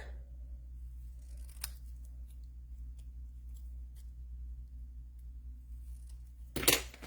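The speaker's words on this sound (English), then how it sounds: "I think this needs to be trimmed just a little bit." Scissors trimming a piece of card paper during card-making, with two brief, quiet snips, one early and one near the end, over a steady low background hum.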